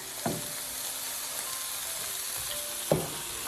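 Steady sizzle of raw plantain skin frying in a pan with turmeric, a constant hiss punctuated by two sharp clatters, one near the start and one near the end.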